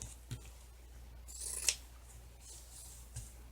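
Scissors trim the edging off a Dollar Tree pumpkin to cut it into a circle, giving a few quiet, close snips and crisp cuts set against a hushed room.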